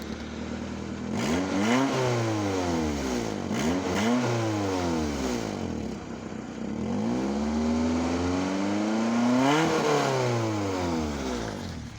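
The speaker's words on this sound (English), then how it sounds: "Oh, that catback exhaust." A car with a catback exhaust revs repeatedly up and down, about four loud rising-and-falling engine sweeps heard close up with no talking.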